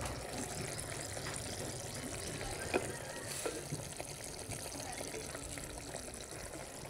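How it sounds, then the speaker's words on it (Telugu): Half a cup of water poured into a simmering okra tamarind curry (bendakaya pulusu), a soft steady gush and trickle at moderate distance with a couple of brief clinks partway through. "నేనైతే 1/2 కప్పు నీళ్ళు వేసుకుంటున్నాను"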